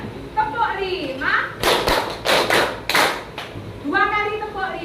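A school class claps a rhythm together in loud, sharp bursts grouped in sets, framed by a voice speaking before and after.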